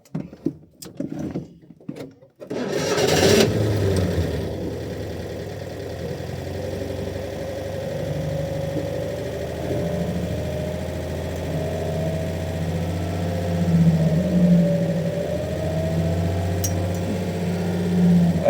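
A 1956 Citroën 2CV AZ engine cranks briefly, catches and settles into a steady, close mechanical idle that runs on evenly for over fifteen seconds with no talking.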